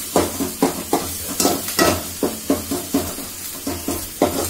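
Ginger, garlic and chili paste fries in a pan, loud and close, with a spoon scraping and stirring in a steady rhythm of about a dozen strokes over a constant sizzle and no talking.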